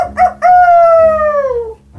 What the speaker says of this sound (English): The Big Bad Wolf wrapped the rock with his paper paw and howled with satisfaction